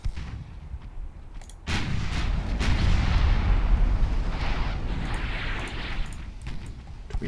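Naval 9-inch guns in triple turrets firing from a warship in Ultimate Admiral Dreadnoughts: a heavy boom opening a long rumbling roar, with scattered sharper thuds after, loud and with no talk.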